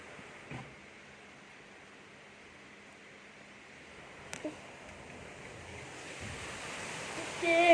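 Storm wind and heavy rain lash an outdoor badminton court during a sudden downpour, a steady roaring hiss with a sharp knock midway, swelling louder near the end.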